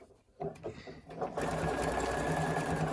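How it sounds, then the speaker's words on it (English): A sewing machine stitches down the side of a cloth face mask, starting after a few soft handling noises and then running as a steady, loud, close mechanical whir to the end. "And then just sew all the way down."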